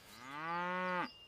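A single cow gives one long, steady, clear moo of about a second that drops off at the end, with quiet background and no talking.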